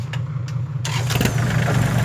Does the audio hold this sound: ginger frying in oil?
no